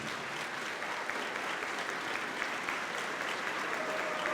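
Audience at a high school graduation ceremony applauding parents, a dense, sustained wash of many hands clapping, even in level from start to finish in a large hall.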